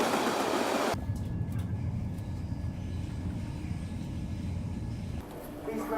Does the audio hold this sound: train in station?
yes